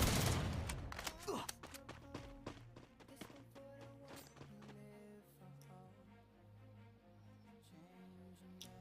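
Gunfire in the battle royale game Free Fire during a competitive esports match: a burst of rapid shots at the start, then scattered single cracks and taps over a faint synth music bed, with faint speech.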